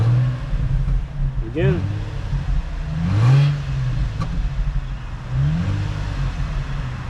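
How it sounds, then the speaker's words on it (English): A 2003 Infiniti G35's engine with a straight-through catback exhaust revs in a few sharp bursts, rising and falling, with someone talking between the revs and a steady low idle underneath. "I'm gonna give you guys a couple revs and let's see how loud she gets"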